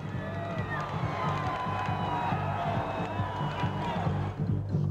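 A celebrating crowd cheers and shouts after NC State's 1983 NCAA basketball championship win, a continuous roar of voices at moderate distance with some nearby talking mixed in.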